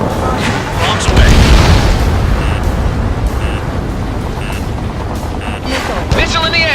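Bombs detonate in Ace Combat 7 during a pipeline destruction mission, a loud rumbling blast swelling early and rolling on beneath radio chatter and jet noise.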